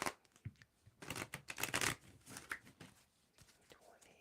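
A deck of tarot cards is shuffled up close at a quiet table, giving soft irregular riffling bursts with one louder flurry in the middle, a faint murmur of talk around it.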